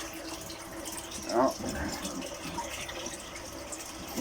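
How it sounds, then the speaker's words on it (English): Water gushing steadily from a shower hose beside a koi pond, a continuous hissing splash heard close up, with a brief spoken exclamation partway through. "chuck the shower back on."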